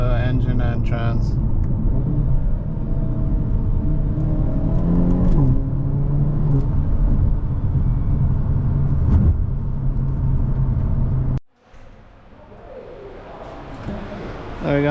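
A 2023 Hyundai Elantra N engine and transmission rumble and rev close by with no exhaust fitted, a steady whirring drone, then drop off abruptly before building again.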